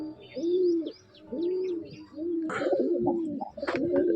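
Several pigeons coo in a steady run of low, throaty rolling calls close by, with faint higher chirps of small birds behind them and no speech.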